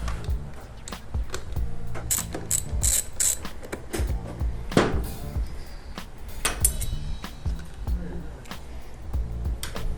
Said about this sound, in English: he's just tightening down the bolts